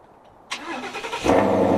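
A guard green 2015 Ford Mustang GT base model with a 6-speed automatic fires up after a moment of quiet, settling into a loud, rumbling idle that swells into a deeper, fuller roar near the end.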